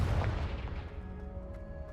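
The Confringo fire spell explodes in the video game Hogwarts Legacy, a deep booming blast at the start that rolls off into a fading rumble with a faint lingering tonal hum.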